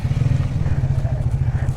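A motorcycle on a hill road from Rangpo to Mangan in North Sikkim rumbles loud and close, with a steady low engine throb throughout.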